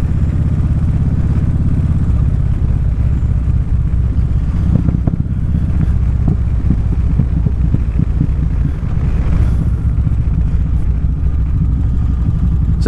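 A motorcycle riding on a wet road with salt still on it: a steady, loud low engine drone throughout, with a broad hiss of tyres or wind and some faint clicks and rattles, no talking.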